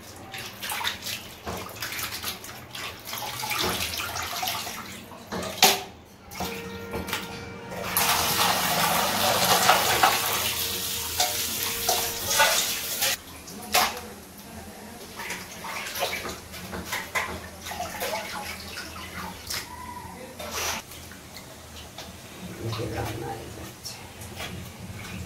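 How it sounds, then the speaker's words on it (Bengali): Mutton is washed under running water, a steady splashing gush of tap flow with louder bursts in the middle, heard close in a home kitchen. "মটন ধোয়া হয়ে গেছে।"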